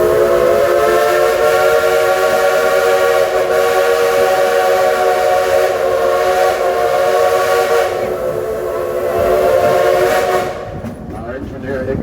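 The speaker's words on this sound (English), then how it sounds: "we'd like to give a couple of train whistles in your honor." A steam train whistle blows in a long, loud, sustained chord for about ten seconds, then cuts off, leaving quieter rumbling and hiss.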